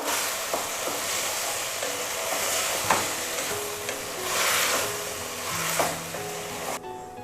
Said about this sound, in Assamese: এই বইল কৰি থৈ দিয়া কচুখিনি মই ঢালিব ওলাইছোঁ